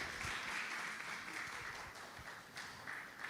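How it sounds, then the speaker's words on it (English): Faint, steady applause from parents at a school parents' night honoring students, a continuous wash of distant clapping with no clear individual claps. "Please, can we have a round of applause for them?"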